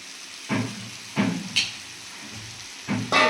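Ground spice paste sizzling in hot oil with fried ash gourd, bursts of loud crackle flaring up as it is stirred, then settling to a quieter hiss between stirs.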